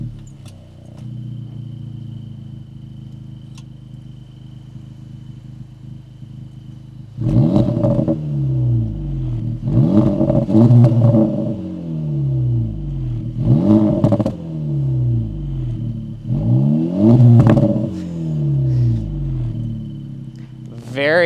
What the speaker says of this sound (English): It's an active exhaust system, so let's go ahead and take a listen to this.